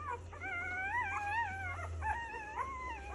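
Several newborn two-day-old puppies whimper and whine in overlapping high, wavering cries as they wake wanting to feed, close by over a low steady hum.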